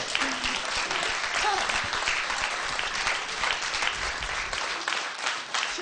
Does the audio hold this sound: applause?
yes